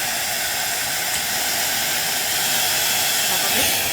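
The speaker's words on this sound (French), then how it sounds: "On va commencer par sécher les cheveux. Regardez, il y a 3 niveaux d'intensité." A hair dryer running on its highest of three power settings while drying hair, giving a steady, loud, close airy roar with broadband hiss that holds constant throughout.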